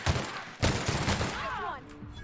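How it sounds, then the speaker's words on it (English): Rapid bursts of light submachine gun fire in The Outer Worlds, a sci-fi shooter game, crackling loud and close in quick volleys, with a brief voice-like tone near the end. "the light submachine gun actually uses light ammo"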